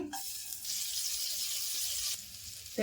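Two spoonfuls of butter melt in a pan over low heat for white sauce, giving a soft, continuous hissing sizzle that holds steady at close range with no talking.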